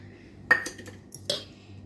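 A utensil working through ingredients in a bowl while mixing jantikalu dough, giving a couple of bright clinks and scrapes against the bowl over quiet background.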